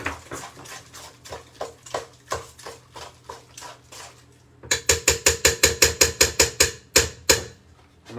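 Dried apricots, cashew nuts and mixed seeds stirred together in a bowl for baked flapjacks, giving a quiet run of soft scraping strokes, then a quicker, louder burst of about a dozen rhythmic clinks and rattles, close up with no talking.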